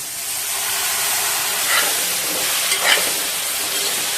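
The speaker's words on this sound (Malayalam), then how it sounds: "ഇനി നല്ലതുപോലെ ഇളക്കി വേവിക്കാം." Cooked beef with Kashmiri chilli powder fries in a pan while being stirred, giving a steady close sizzle and hiss with a few brief scraping stir sounds, and no talking.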